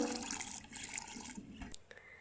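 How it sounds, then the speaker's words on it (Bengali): Rainwater is scooped from a drum and poured into a bucket outdoors, a faint splashing pour with a thin high whine running through it, tapering off near the end. "আমি আবার সেই বৃষ্টির পানিটা আবার কলসে উঠাইয়া মানে বালতিতে ঢালবো"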